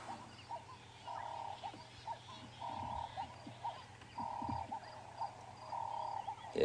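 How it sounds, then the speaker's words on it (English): Doves call repeatedly in the African bush at sunrise, their low, rhythmic cooing phrases recurring every second or so at moderate distance, with faint croaks and other birdsong scattered underneath. "you can hear the doves really starting to give it stick now"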